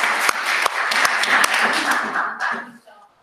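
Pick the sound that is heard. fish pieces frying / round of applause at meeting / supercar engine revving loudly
round of applause at meeting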